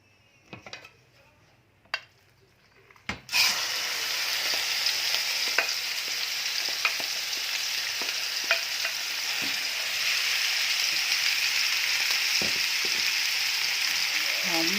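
Turkey stir-fried with homemade curry paste in a pan: after a few quiet seconds with a couple of knocks, a loud, steady sizzle starts, with scattered clinks and scrapes of stirring throughout.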